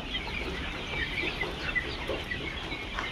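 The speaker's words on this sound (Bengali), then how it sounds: "এই পুলেটগুলো আমরা বিক্রয় করব" Layer pullet chickens, white Hy-Line layers about ninety days old, cluck and chatter continuously on a poultry farm, a dense flock murmur at moderate distance with no talking.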